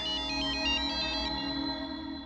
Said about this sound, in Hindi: ये तो सिमरन के डॉक्टर का फोन है।